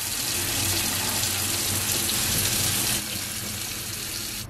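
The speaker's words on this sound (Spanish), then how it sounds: "Otra forma de abrir la olla a presión es echarle agua fría." Cold water gushing from a tap over a hot pressure cooker to release it, a loud steady broadband splashing rush that eases slightly partway through and continues without voices.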